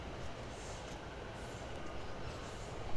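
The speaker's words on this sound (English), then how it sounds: "See the train, Southwest trains in and out of Waterloo." Continuous rumbling roar of a South Western passenger train running in or out of Waterloo passing in Vauxhall, a steady broadband rush without breaks, fairly close.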